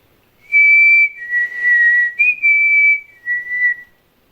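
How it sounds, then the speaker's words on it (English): A person whistles a short tune of five sustained, slightly wavering notes during a paranormal ghost hunt in Liverpool, loud and close in a quiet room. "I'm going to whistle now."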